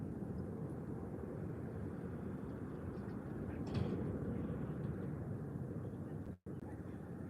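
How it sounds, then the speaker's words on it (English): Transavia Airbus A321neo jet departing from Málaga airport bound for Rotterdam, a steady broad engine roar heard from a distance that swells slightly midway and holds throughout. "So very nice departure from the Transavia A321neo going to Rotterdam"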